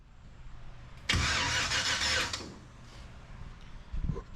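Car engine cranking and catching on a home-built project vehicle in a garage, a sudden loud churning burst that runs about a second and a half before settling to a lower rumble, with faint clatter afterward and no voices.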